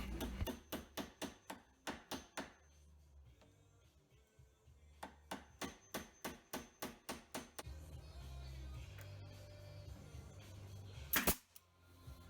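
Sharp hammer blows strike a nail into an antique oak furniture foot in quick rhythmic bursts, a dozen taps, a pause, then another run of strikes, followed by quieter shuffling and one louder knock.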